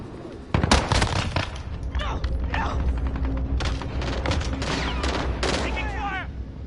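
Constant gunfire in a military shooter video game, rapid automatic bursts and single shots over a dense battle din, with clipped in-game voice callouts mixed in.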